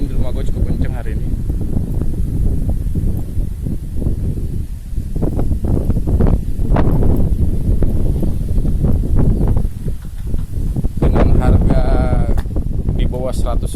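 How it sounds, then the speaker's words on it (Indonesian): Strong wind blowing at a home, a loud steady roar buffeting the microphone with gusty swells throughout, rough and close with no voices. "Angin di rumah gue cukup kenceng hari ini."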